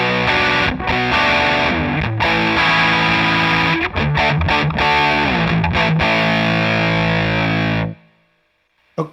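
Electric guitar played through a Beetronics Royal Jelly fuzz and overdrive pedal, thick distorted chords ringing loudly with brief choppy breaks, then cutting off to a low residual hiss before a short final hit.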